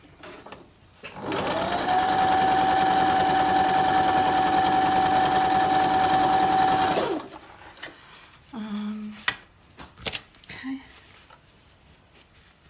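A sewing machine stitching quilt block pieces for a nine-patch block runs in one steady, loud whirring burst of about six seconds, ramping up and winding down, followed by softer handling clicks and rustles.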